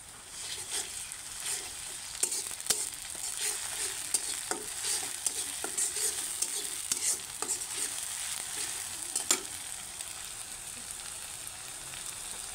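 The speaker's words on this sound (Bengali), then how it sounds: "এই তো রসুন বাটা দিয়ে দিছি" Garlic paste frying with onions in a pan over lowered heat, a steady sizzle with scattered crackles and soft stirring scrapes that runs the whole time at a moderate, close level.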